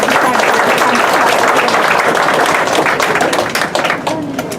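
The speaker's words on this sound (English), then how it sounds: "y'all keep clap for him." Dense, sustained applause and clapping from an audience at a community event, loud and continuous throughout, with crowd noise beneath and a slight fade near the end.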